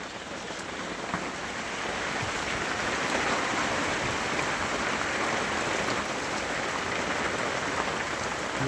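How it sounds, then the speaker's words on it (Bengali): Heavy monsoon rain pouring down steadily outdoors where a horse stands, a dense, continuous hiss of drops that stays loud from start to finish. "এখানে খুব খুব বৃষ্টি হচ্ছে, এখানে খুব বৃষ্টি হচ্ছে।"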